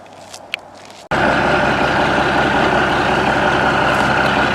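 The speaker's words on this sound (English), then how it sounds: "They're a really cool sounding engine." A diesel truck engine cranks and catches, then settles into a loud, steady, rumbling idle that continues alone after a quiet moment before startup.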